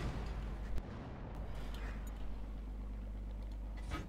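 Tank cannon fire in a World of Tanks historic battle sounds as a sharp boom near the start, followed by a heavy rumbling engine and battlefield drone that continues under the rest.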